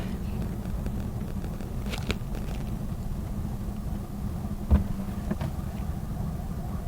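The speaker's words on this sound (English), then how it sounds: "There seems to be a lot of traffic here." Steady low rumble of road traffic on a high-altitude road toward Lhasa, Tibet, near roadside construction, with engines droning nearby and a few passing vehicles, faint wind noise underneath.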